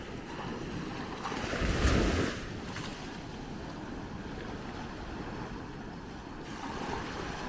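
A single ocean wave breaks and washes up on the beach at Maspalomas, Gran Canaria, a brief swell of surf rising out of steady wind and quiet water before calm returns.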